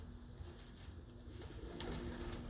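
Pigeons cooing softly at a loft, low repeated coos close by in a quiet setting with faint background noise.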